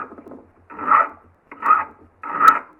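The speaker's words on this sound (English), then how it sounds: "I'm just going to file the top of that flat from where I ground it." A hand file rasps across the top of a ground ripping chain tooth clamped in a vise, in three slow, loud strokes with short pauses between them and a softer scraping start.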